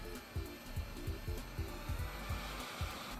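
A heat gun blows steadily while desoldering capacitors from an SNES console board, a constant airy roar with a faint rhythmic thumping underneath, close and alone without speech.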